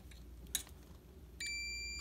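A multimeter gives a steady continuity beep while testing a freezer compressor's overload protector; the tone starts suddenly midway and holds evenly to the end, following a brief click, over a quiet low hum.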